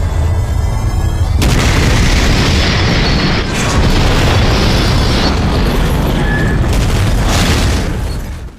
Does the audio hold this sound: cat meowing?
no